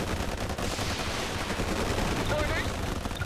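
Gunfire and a turret barrage in the real-time strategy game Forged Battalion, a dense continuous roar of overlapping shots and explosions with no let-up, steady and loud throughout.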